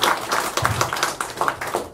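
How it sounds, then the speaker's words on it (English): An audience claps for a speaker at an investor meeting indoors, a short burst of brisk, uneven hand claps from a modest group, fairly close and without voices over it. "So give her a round of applause, Michelle."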